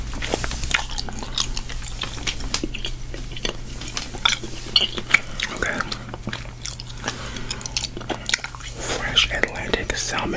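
Close, moist gum chewing with soft smacking and clicking repeats steadily throughout, intimate and up front, while a person whispers and talks quietly over it.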